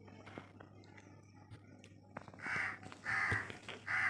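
Crows caw in the morning near a rooftop: three loud, harsh caws in the latter half, after quieter scattered sounds, with faint background noise.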